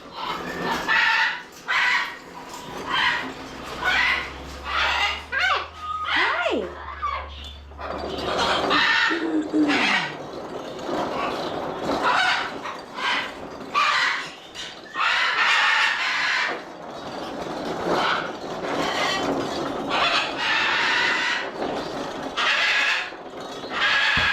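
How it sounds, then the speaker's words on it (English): A loud, dense chorus of birds squawking and chickens clucking and crowing at an animal rescue in the morning, constant and overlapping, close by with no gaps. "the birds are obnoxiously loud, and they are like that every single morning"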